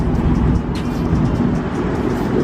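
Dodge Charger Scat Pack with a mid muffler delete rumbling steadily at close range, a deep, loud exhaust drone throughout with no voices.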